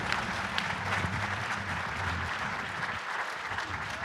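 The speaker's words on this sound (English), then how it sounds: "Can you all give a warm round of applause to this fantastic group of people?" Warm applause for a panel at an advocacy awards ceremony: a full room clapping continuously with a dense, sustained roar and a faint low hum underneath, no speech on top.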